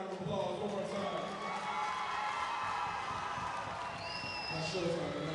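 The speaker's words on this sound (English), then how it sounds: "Everybody give this guy a round of applause one more time." A crowd at a caged MMA fight event cheers and claps steadily after a bantamweight bout, a dense continuous roar filling the whole stretch with a few whistles near the end.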